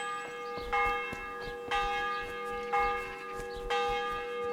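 Church bell tolling in the medieval game Kingdom Come: Deliverance, four loud ringing strikes about a second apart, each leaving a long humming resonance that overlaps the next.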